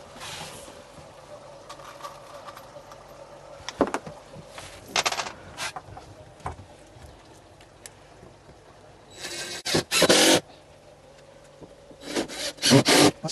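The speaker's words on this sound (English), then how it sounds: "I'm going to put some screws in there" Screws are driven into wooden uprights on a budget grow-on tank build. Intermittent grinding and creaking of wood comes in uneven bursts, with louder stretches near the end and no talk.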